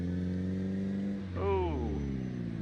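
A van engine in a zombie survival game hums steadily, then revs up briefly in a rising whine before settling back, with a voice talking over it.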